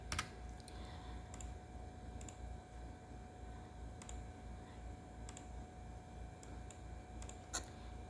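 Text typed on a computer keyboard in a quiet room: sparse, isolated key clicks spaced about a second apart over a low steady hum, faint and close, no talk.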